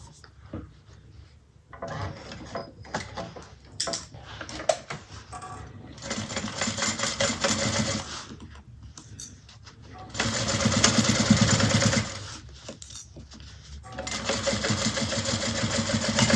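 Sewing machine stitching a bag gusset at a 3/8 seam, rapid rattling bursts of varying length separated by pauses and handling clicks, close and fairly loud.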